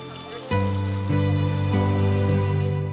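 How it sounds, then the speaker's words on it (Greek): Hot spring water pours out of rocks in North Euboea, Greece, a close, steady rushing flow that swells after a brief quieter start, with a faint tonal hum beneath. "Παντού από τα βράχια βγαίνουν νερά."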